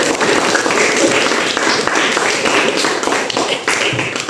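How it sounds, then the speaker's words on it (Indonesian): Classroom of students clapping together, loud close-up applause with distinct individual hand claps forming an uneven, energetic patter that continues steadily. "beri tepuk tangan untuk kita semua"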